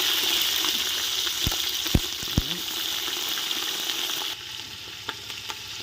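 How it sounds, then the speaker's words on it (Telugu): Mustard seeds, dry red chillies and green chillies frying in hot oil in a pan, a steady hiss of sizzling with a few sharp pops and crackles, close, without talk. "ఆవాలు, ఎండుమిర్చి, పచ్చిమిర్చి వేసుకుందాం."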